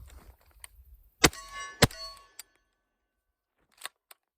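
A suppressed .300 BLK short-barreled rifle, a Witt Machine & Tool Dirty 30, fires its last two rounds: two sharp, close reports half a second apart, each trailing a short ring, followed by a couple of faint metallic clicks.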